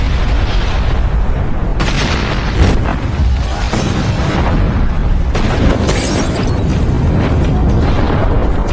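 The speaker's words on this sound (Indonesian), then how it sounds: "Lalu setelah itu ia melempar granat yang meluluh lantarkan bunker tersebut." A grenade blast destroys a North Korean bunker in a Korean War film battle scene, with dense, loud, continuous rumbling booms and repeated explosive bursts filling the whole stretch.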